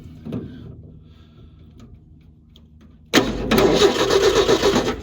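A 1968 Ford F100 pickup with a 240 inline six is cranked after a few quiet seconds, breaking into a loud, close, steady churning whir that runs to the end.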